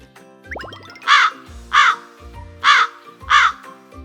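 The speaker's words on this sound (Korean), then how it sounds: "바로 나 까마귀야." A crow caws four times at an even pace, loud and close, with a rising call at the start and a faint background drone.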